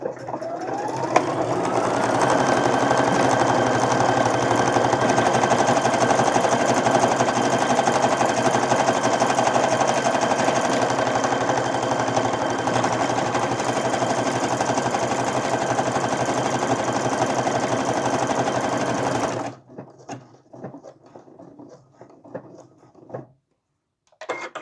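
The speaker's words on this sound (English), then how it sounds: "buttonholing is a little scary" A sewing machine runs steadily and loudly for about twenty seconds, stitching a buttonhole in swimsuit fabric, then stops abruptly and leaves only faint handling noises.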